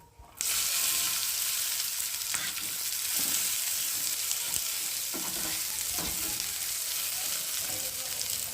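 Chopped onion and cut dried red chilli hitting hot oil with a sudden burst, then a continuous strong sizzle broken by repeated stirring scrapes while frying for an eggplant bharta.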